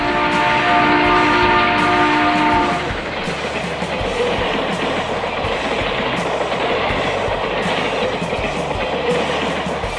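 A train runs along the tracks with a steady, loud rumble and rattle, and a sustained tonal hum rides over the first few seconds before fading into the continuous rolling noise.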